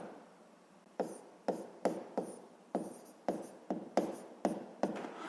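A pen writes by hand on paper during a sixth-grade maths exercise: a steady series of short, crisp strokes and taps, close and quiet, with no voices.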